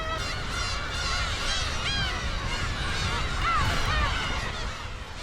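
A dense chorus of black-tailed gull calls at a nesting colony on Hongdo island, many birds crying and squawking at once, loud and continuous without a break.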